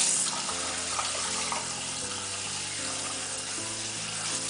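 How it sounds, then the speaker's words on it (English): Steady water streaming and splashing as it rinses through a toddler's hair during wash day, a continuous close hiss with no talking. "Typically, I only rinse through her hair one time"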